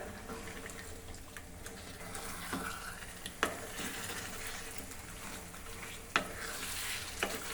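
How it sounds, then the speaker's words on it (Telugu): Spicy country chicken (naatu kodi) fry is stirred in a pan over high heat, giving a steady, close sizzle with scraping strokes and a couple of sharper knocks against the pan. "ఇలా బాగా కలుపుకోవాలి, అంతా కలిసిపోయేటట్టు."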